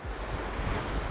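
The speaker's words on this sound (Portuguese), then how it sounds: "E começou a ventar mesmo." Wind gusts buffet the microphone on the Portuguese coast, a loud, rough rumbling roar with a steady breathy hiss and no voices, lasting only about a second.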